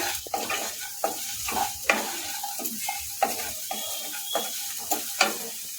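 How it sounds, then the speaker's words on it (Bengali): Sweet corn upma with vegetables stirred in a pan after salt goes in, rhythmic spoon scrapes and taps against the pan about once a second over a soft sizzle, close and clear. "লবণটা দিয়ে ভালো করে আবারও নেড়ে ছেড়ে নেব"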